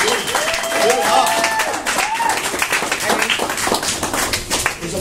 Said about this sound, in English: we got to give ourselves a round of applause for this awesome game